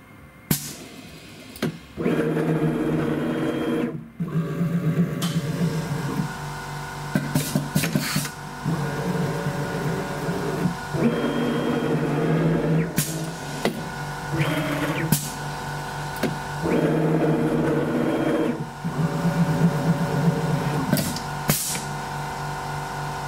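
An AMB FME-W DI 230 V fully automatic tool changer on a V1 machine fetching a tool, giving a steady close mechanical whirring hum with repeated motor cycles and clicks in sequence.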